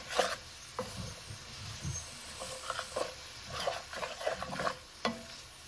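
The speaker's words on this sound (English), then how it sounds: "Let's start using these mushrooms to help me scrape up all the brown bits on the bottom." Mushrooms sautéing in butter while a utensil scrapes browned bits from the pan bottom: soft sizzling under repeated close scraping and stirring strokes, irregular and fairly quiet.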